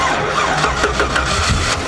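Engine of a 1959 Chevy Apache truck cranking and trying to catch, a steady rough churning whirr, close and fairly loud, with no clean start across the short span.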